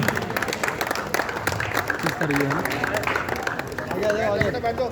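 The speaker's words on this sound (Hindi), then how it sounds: "आदरणीय महापौर जी, एक बार जोरदार तालियों से स्वागत कीजिए।" Crowd applause welcoming the mayor at the closing ceremony of a district basketball tournament, steady clapping mixed with crowd chatter and a voice speaking over it.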